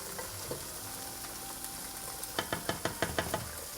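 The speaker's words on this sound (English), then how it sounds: "So we lower it to simmer, mix everything together" Madras curry simmering in a pan, with a steady close sizzle, then a quick run of about seven sharp spoon knocks and scrapes against the pot as it is stirred toward the end.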